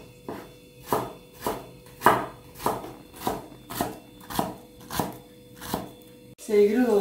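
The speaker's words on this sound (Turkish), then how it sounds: "Soğanlarımızı mümkün olduğu kadar küçük ve ince doğrayalım lütfen." A knife chops onions finely on a board in about ten steady, evenly spaced strokes, close and crisp, before a brief clatter at the end.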